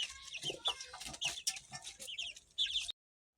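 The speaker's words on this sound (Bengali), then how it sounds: "এই মুরগি, এই মুরগি, দেখেছ মুরগি?" Chickens cluck and squawk up close in a busy, overlapping run of short calls, with several birds active at once until the sound cuts off abruptly.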